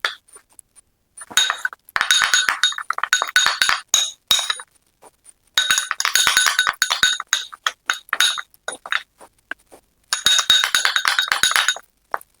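Rice flour face pack being stirred in a bowl, with bursts of rapid clinking and scraping that come and go in three main stretches, close and fairly loud.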